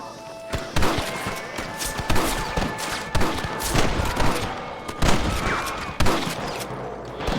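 Rapid, overlapping gunfire from several shooters during a shootout in Red Dead Redemption, with sharp cracks and thuds repeating throughout, while shouted voices are heard beneath the shots.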